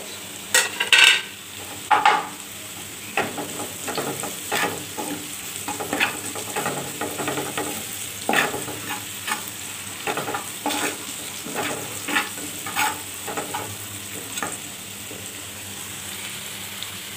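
Lightly fried food crackles in a pan as turmeric powder and salt are added, a utensil stirring and scraping in irregular strokes, the sizzle steady underneath.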